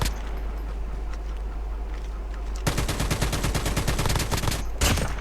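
Gunfire in the mobile game Call of Duty Mobile: a loud, rapid automatic burst rattles steadily for a couple of seconds, stops briefly and then starts again.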